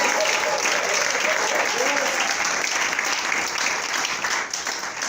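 A church congregation applauding and cheering, a dense, steady wash of clapping and voices filling the room throughout, with a faint voice speaking beneath.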